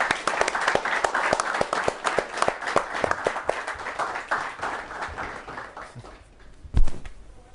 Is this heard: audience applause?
yes